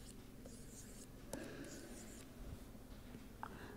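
Writing during a recorded lecture on fault tree analysis: a soft continuous scratching of pen or chalk strokes with a few light taps, faint and close, over a steady background hum, no speech.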